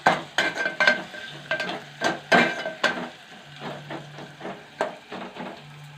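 Onions fry and get stirred in a pan on the stove, with repeated spatula scrapes and knocks against the metal over a soft sizzle, irregular and close.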